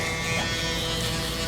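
Electric hair trimmer buzzing steadily during a barbershop haircut, a close, continuous whirring hum that holds unchanged throughout, no talk.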